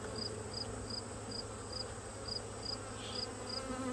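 Honey bees swarm around an open hive during a hive inspection with swarm cells and emerging brood, a steady close droning hum with faint higher whines recurring at a regular pace.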